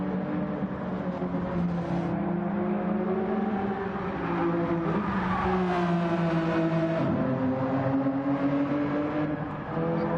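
Several race cars in Gran Turismo 7 at Suzuka, an Alfa Romeo among them, drone and rev loudly through the S-curves, their engine tones rising and falling continuously with no break.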